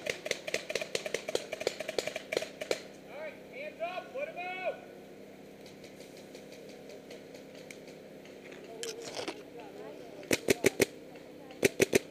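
Gunfire in a zombie apocalypse game: bursts of rapid shots rattle at the start, go quiet in the middle, then return as a few sharp separate cracks near the end, with players talking between them.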